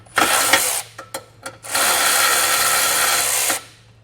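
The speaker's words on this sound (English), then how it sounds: "The same goes for the bolt that's running into the bumper beam. That's going to require a 12 millimeter socket to get that taken out." A power tool fitted with a 12 mm socket spins out a bolt from the bumper beam of a 2020 Nissan Pathfinder, a loud buzzing whir, a few short stuttering blips, then a sustained two-second run that cuts off abruptly.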